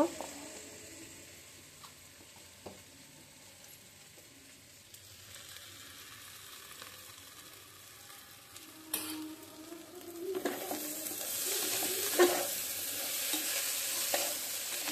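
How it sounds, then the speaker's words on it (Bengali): Rice for pulao frying in a pan with ginger paste, a soft sizzle under scraping stirring strokes that grows louder and busier in the second half. "এখানে আমি চালটা ভেজে নিচ্ছি আর একটু আদা বাটা দিয়ে দেব।"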